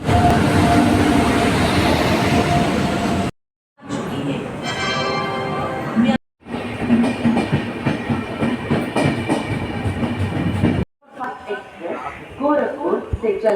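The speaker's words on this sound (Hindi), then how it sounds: "तो ट्रेन आ रही है." A passenger train pulls into a station in Lucknow, its loud rumble and clattering wheels mixing with platform noise and announcements, with people talking throughout and brief gaps between segments.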